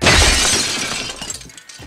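Glass shatters loudly in an animated Batman scene, a sharp crash followed by tinkling debris that fades over a couple of seconds.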